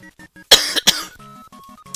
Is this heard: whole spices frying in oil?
no